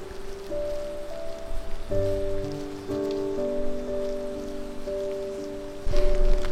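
Small snow pellets, like bits of styrofoam, patter steadily onto a surface outdoors on a cold day, a dense close crackle with a soft tonal hum running underneath.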